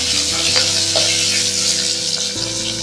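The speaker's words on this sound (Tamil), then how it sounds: "நம்ம ஃபஸ்ட் ஆனியன் போட்டுக்கலாம்" Sambar onions dropped into hot oil for a Tamil sambar, a close, loud frying sizzle with faint crackles, steady across the moment under a low background hum.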